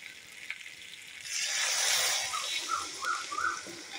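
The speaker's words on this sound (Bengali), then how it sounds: "এবার আমি জল দিয়ে দেবো।" Water poured into a pan of frying jackfruit, potato and prawns gives a rising burst of hissing sizzle that settles into bubbling, close up with no talk.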